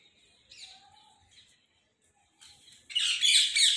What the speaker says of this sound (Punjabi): ਸਾਡੇ ਤੋਤੇ ਵੀ ਆ ਗਏ